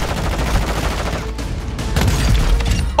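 Rapid automatic gunfire from the Warzone shooter game, close and loud, continuing steadily for a few seconds with no pause.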